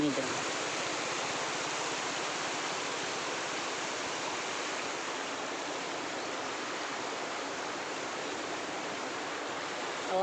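Steady rushing of a flowing village river near a bridge, a continuous broadband wash of water that stays even and close throughout.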